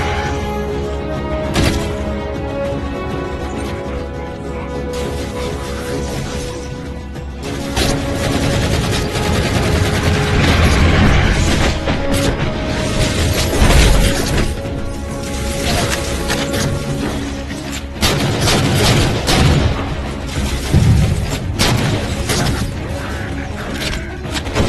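Halo 4 gunfire aimed at jammers rattles in repeated bursts through a busy, loud game soundtrack of mechanical clanks and crashes, sustained over roughly twenty-five seconds.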